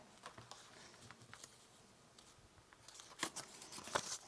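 Scrap paper being torn out of a book for a junk journal: soft, close rips and crinkles in short bursts that grow louder and denser toward the end, with no voices.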